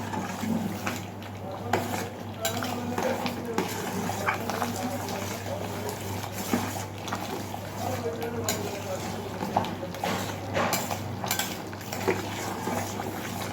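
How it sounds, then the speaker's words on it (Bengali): Khichuri being stirred in a pot with frequent scraping and clinking of a spoon against the metal, over a low steady bubbling hum, continuous at close range. "এই সময় ঘন ঘন খিচুড়িটা নাড়বো যাতে তলায় লেগে না যায়"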